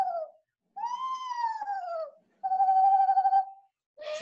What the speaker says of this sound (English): that's an Eastern screech owl.